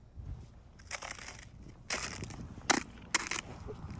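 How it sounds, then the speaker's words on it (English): Thin winter ice cracking underfoot while walking: several crunchy breaking bursts, with two sharper snaps near the end, close and fairly quiet, with no talking. "you see those really thin pieces of ice, yes, and you're just so tempted just to crack through them"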